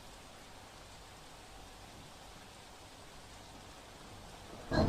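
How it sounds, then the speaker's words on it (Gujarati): Heavy rain falling in Navsari makes a faint, even hiss that stays steady throughout, ending in a brief louder burst. "હવામાન વિભાગની આગાહી પ્રમાણે નવસારીમાં ધોધમાર વરસાદ શરૂ થયો છે"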